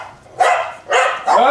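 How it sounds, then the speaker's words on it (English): Several dogs at a junkyard bark in three loud bursts at a car pulling in, each burst lasting a few tenths of a second, with quieter gaps between. "Junkyard dogs are going."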